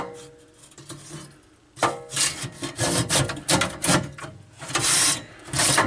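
RAM cards are reseated one after another in an IBM 5160 computer: quiet handling at first, then a series of sharp scraping and clicking bursts as the boards slide and seat into their slots, close and fairly loud.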